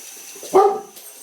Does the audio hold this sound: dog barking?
yes